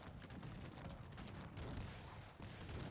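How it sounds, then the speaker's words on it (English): Cannon fire from a Cossacks 3 real-time strategy battle, a dense continuous barrage of distant booms and crackling shots rolling steadily without pause. "there's some cannonballs flying in"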